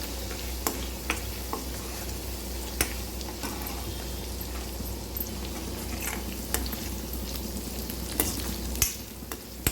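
Ginger garlic masala with turmeric frying in a pan for chicken pickle, a continuous soft sizzle with occasional utensil taps and stirring scrapes, fairly quiet and with no voices.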